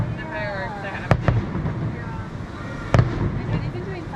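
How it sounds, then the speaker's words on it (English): Fireworks from a theme park show boom twice in sharp, loud bursts heard from a hotel, over a steady background hum and murmur. "The fireworks are happening."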